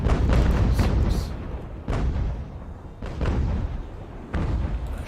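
Heavy broadside cannon fire from sailing warships in Ultimate Admiral: Age of Sail rolls out in several deep booming blasts, loud and close, with shots arriving in clusters about a second apart and no talk over them.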